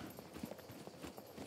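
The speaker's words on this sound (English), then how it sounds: "I just heard a horse. There are horses in this game, too." Horse hooves clip-clopping in the survival video game Scum, a faint, irregular run of soft clops set against a low background hum over a short stretch.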